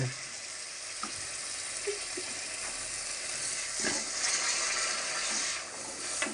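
A little water poured into a hot frying pan of potatoes, giving a steady close sizzle and hiss with a few soft splashes and bursts across the whole stretch.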